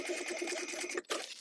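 A sewing machine runs steadily, stitching the lining seam of a fabric sling bag at a 3/8 inch allowance, with a brief pause near the end before the motor resumes.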